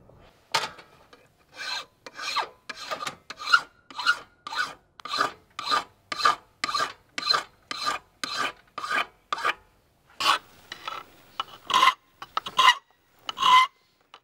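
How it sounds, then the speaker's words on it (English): A metal file rasps across the top of a knife blade held tight in a clamp, about twenty even, rhythmic strokes close up, with a brief pause before the last few louder passes. "first I'm going to clamp the top, and I'm clamping it in the middle, but I'm going to file on the top"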